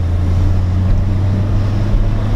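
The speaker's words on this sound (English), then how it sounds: "It's got an AWE tuning cat pack exhaust on it" Lexus SC300 with an AWE Tuning cat-back exhaust, heard as a deep, steady low idle rumble with a strong bass hum, close and loud, with some wind noise and no talk.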